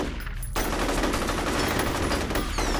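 Rapid automatic gunfire blasts continuously from the shooter game F.E.A.R., loud, dense bursts rattling close by after a short quieter moment at the start.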